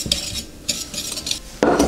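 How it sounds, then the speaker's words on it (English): Metal whisk scraping and tapping against a bowl as egg yolks are beaten with caster sugar, cornflour and plain flour, in a few quick bursts with a louder clatter at the end; no one speaks. "I'm just going to whisk these together"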